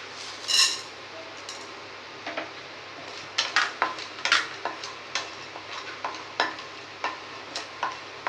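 Chana dal and lentils dry-roasting in a pan while being stirred, giving soft scattered ticks and light scraping clicks over a faint steady background hiss, irregular and fairly quiet.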